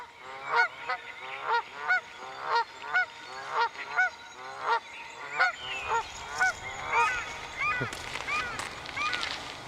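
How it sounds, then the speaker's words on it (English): Birds call on a morning outdoors, a run of regular, evenly spaced honking calls close by, about one per second, later turning to busier overlapping calls. "the birds are giving me a nice song this morning"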